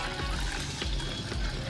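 Water poured onto moong dal in a pot, a brief continuous close pour with splashing and gurgling, no talking.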